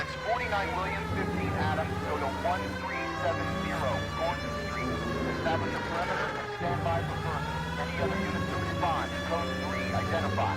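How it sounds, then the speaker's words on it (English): A loud wailing police siren in the video game L.A. Noire rises and falls continuously, with a voice talking over it at times. "Code 3 means I get to use the siren."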